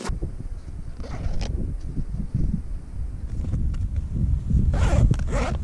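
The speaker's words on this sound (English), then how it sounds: "Now these zippers are self-healing zippers" Zippers on a KastKing Day Tripper backpack are pulled open and shut in several quick rasping strokes, close up over faint rustling and wind noise, with no talking.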